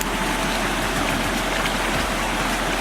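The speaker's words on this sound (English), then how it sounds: "Oh, look at the water is going fast." Fast-flowing stream water rushes steadily on a Mt. Baldy hiking trail, a loud, continuous broadband wash close by with no break and no talking.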